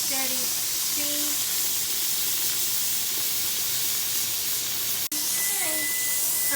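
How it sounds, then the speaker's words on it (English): Steam vents steadily from a Presto pressure canner loaded with corn, a loud continuous close hiss that runs almost unbroken, with one abrupt brief cut near the end. "You gotta let it come out for 10 minutes for the steady steam."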